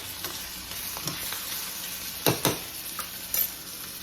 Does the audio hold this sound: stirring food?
yes